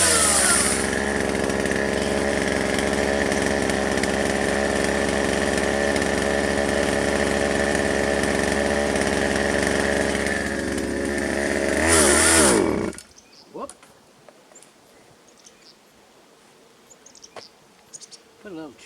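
A 1997 Poulan 2150 chainsaw with a roughly 16-inch bar runs loud and steady at a buzzing, high-revving idle for about twelve seconds. It then cuts off, leaving quiet outdoor background with faint rustles.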